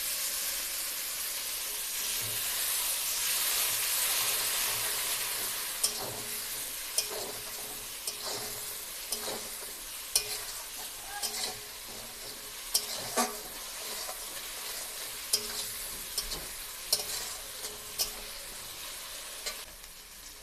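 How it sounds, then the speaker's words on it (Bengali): Chilli powder and spices sizzle hard in oil in a pan as a little water goes in, a loud hissing fry broken by regular scraping knocks of a spoon stirring, with no voices. "লঙ্কা গুঁড়ো মশলাগুলো একদম ভালো করে ভাজা ভাজা হয়ে গেছে আর আমি একটু জল দিয়ে দেব"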